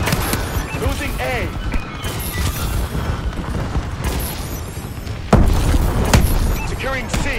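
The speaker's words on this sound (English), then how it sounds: "Friendly bombing run clearing the way." Bombing-run explosions in the Call of Duty: Advanced Warfare Domination mode rumble and crash beneath dense gunfire and battle noise, with a heavy boom near the end and an announcer's voice talking over the action.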